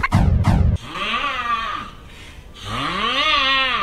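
A man snores loudly with a rising and falling, siren-like wail, a long drawn-out tone that swells and fades over several seconds after a brief noisy burst.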